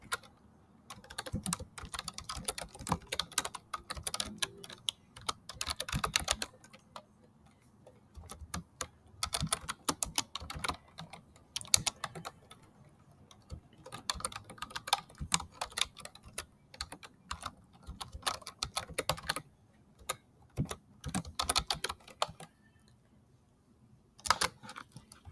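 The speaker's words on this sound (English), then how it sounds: "it has to type in" Rapid typing on a computer keyboard, delivered in bursts of dense, clicky keystrokes separated by short pauses, close and clear with no voices.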